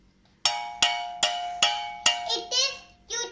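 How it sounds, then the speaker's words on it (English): Metal utensils struck together five times at a steady rhythm, each a bright ringing clank with a lingering metallic tone, followed by a voice speaking briefly during a classroom sense-recognition activity. "It is utensil sound."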